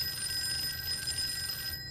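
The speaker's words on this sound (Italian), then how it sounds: "C'è un telefono." A telephone rings in the horror video game Fork Road: a steady, continuous electronic ring that stays loud and unbroken for about two seconds before cutting off at the very end.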